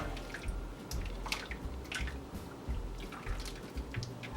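A wet liquid mixture is poured over a turkey, dripping and splashing in a steady stream, with soft squishy drips throughout, close by.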